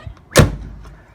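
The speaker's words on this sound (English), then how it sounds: "the way that door closes." A single solid thud as the door of a 1996 Rolls-Royce Silver Spur closes, close and loud, with a brief soft settle afterward.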